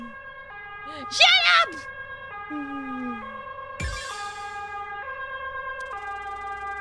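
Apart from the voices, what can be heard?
ambulance siren in video game vivid/stasis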